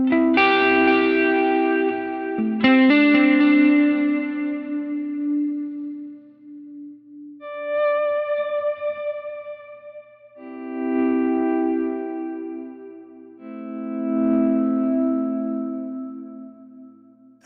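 An electric guitar runs through a Line 6 Helix Heliosphere delay with the feedback turned up high, so each plucked chord repeats and trails off in long, echoing, modulated tails. Several separate phrases ring out and decay.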